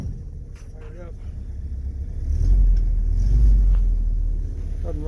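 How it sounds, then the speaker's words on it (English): An old Willys engine rumbles low and steady, swelling louder for a few seconds as it is revved, then settling back, heard close from the driver's seat with wind buffeting and a voice speaking. "we're in the cockpit of our old Willys. Fire it up."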